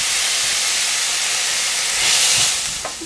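Tomatoes hit a hot pan for vada curry, letting out a loud, continuous steamy hiss that swells briefly near the end, with a faint knock as it finishes.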